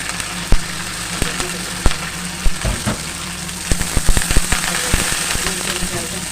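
Garlic and curry leaves frying in hot oil for a sardine curry, crackling and popping in sharp, irregular bursts over a continuous sizzle, close and fairly loud.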